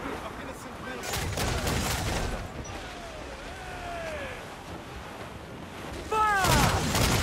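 Ship cannons boom in repeated volleys during a naval battle in Assassin's Creed Black Flag, loud blasts and crashes around 1 s, 2 s and a heavy burst near the end, with shouted voices over the battle noise.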